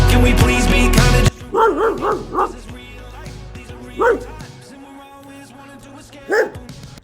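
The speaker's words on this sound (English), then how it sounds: "There seem to be a lot of dogs here." Several dogs bark and yip in a street in Lille, a quick burst of barks followed by single ones, close and loud over music and background noise.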